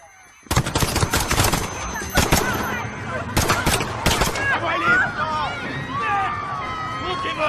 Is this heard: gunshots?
yes